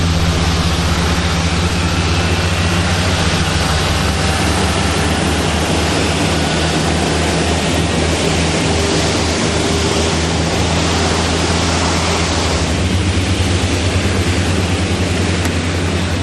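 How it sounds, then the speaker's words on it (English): Airbus A380 jet engines run during ground testing, a loud, continuous roar with a deep low-frequency rumble and a broad rushing hiss that holds steady throughout. "The smoke is caused by a protective layer of oil burning off as the engines are run one by"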